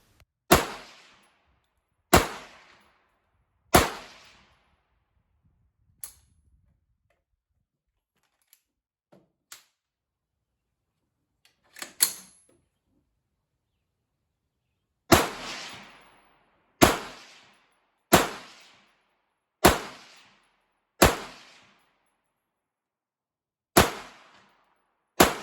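A Bear Creek Arsenal .22WMR rifle upper fires about a dozen sharp, loud single shots outdoors, spaced a second or two apart, with a quiet gap and a few faint clicks partway through.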